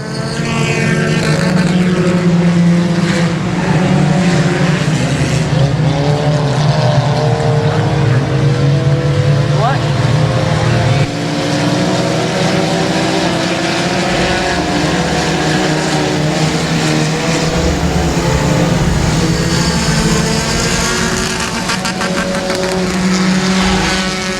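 Race cars roar around Timberline Speedway in a loud, continuous engine blare, several cars running close together with overlapping rising and falling revs throughout the lap.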